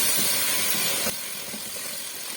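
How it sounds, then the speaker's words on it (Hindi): Salt, spices and crushed red chili sizzle in a cooking pot for an aloo matar pulao, a steady close hiss that drops to a quieter sizzle partway through. "2 से 3 मिनट में इन मसालों को भूनूंगी।"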